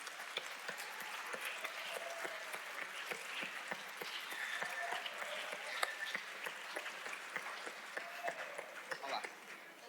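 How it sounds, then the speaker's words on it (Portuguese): An audience gives steady applause for a singer at a Portuguese talk event, dense clapping held at moderate loudness for about ten seconds, with voices heard faintly underneath. "Uma salva de palmas, ela merece."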